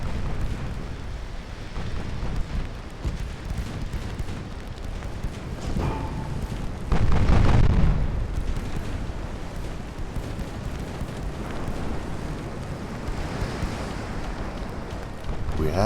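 A single heavy shell impact on a warship in Ultimate Admiral: Dreadnoughts, a dull booming blast around the middle rising over a low rumbling background of wind and sea, then fading away.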